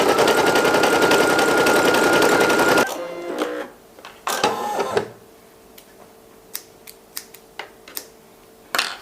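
An embroidery machine stitches a spooky Halloween patch with a loud, fast, steady mechanical whir for about three seconds, then stops. Scattered clicks and handling knocks follow in the quiet.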